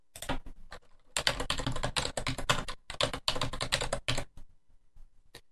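Rapid typing on a computer keyboard while a file name and password are entered for a backup, dense clattering runs of keystrokes with brief gaps, close and alone without speech.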